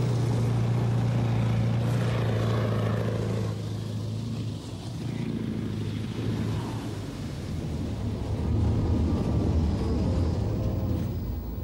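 A Warrior armoured personnel carrier with a Rolls-Royce Perkins V8 engine gives off a loud, continuous engine drone and rumble that swells and eases slightly as it runs, with no voices over it.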